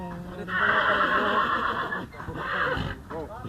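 A horse at the Pushkar fair gives a loud, drawn-out neigh near the microphone, followed by shorter whinnying snorts, with some background sounds around it.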